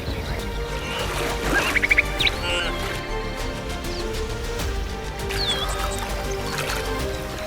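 Wildebeest splash and churn continuously through water in Tanzania, with bird calls and honking cries scattered over the sloshing in an open outdoor setting.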